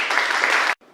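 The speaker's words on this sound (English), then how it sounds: "Can we clap for" An audience applauds at the end of a lecture on African elections, a dense burst of clapping that cuts off sharply after under a second.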